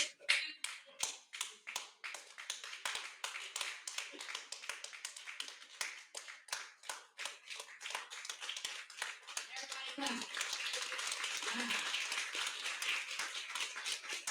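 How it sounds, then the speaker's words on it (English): An audience at a business talk claps in a build-up: sparse individual claps join one by one, then merge into a dense, continuous clapping that grows louder, with a few brief voices underneath. "Stay clapping, stay clapping."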